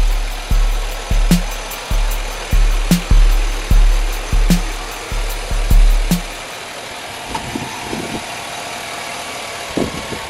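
A white 2004 Chevrolet Silverado 4x4 pickup engine runs close by with a steady idle, its rhythmic pulsing bursts repeating for about six seconds before the sound drops to a quieter, rougher background.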